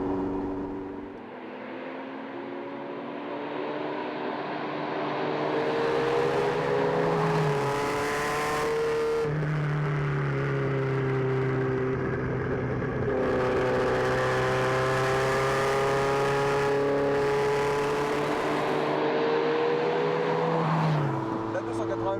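A Ferrari 288 GTO engine revs while driving, its tone climbing and falling through several sweeps with a clear, singing harmonic note, loud and close, with talk over the engine at times.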